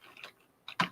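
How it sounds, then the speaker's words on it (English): Typing on a computer keyboard, a few soft, close key clicks in a brief, uneven burst, quiet and alone. "you go onto the internet and you type in"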